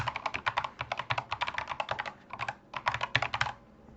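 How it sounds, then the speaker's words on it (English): Someone types an email address on a computer keyboard in quick, close clattering bursts of keystrokes, with a short pause before a final flurry of taps. "I'm going to type in"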